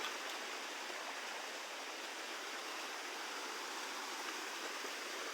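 Cold stream water rushing at Rajapani, a steady broadband roar of flowing water close by, unbroken and even in level with no voices.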